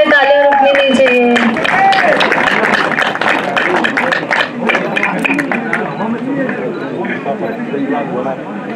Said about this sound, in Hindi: तालियां बजती रहे, तालियां रुकनी नहीं चाहिए।